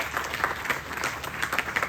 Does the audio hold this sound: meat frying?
no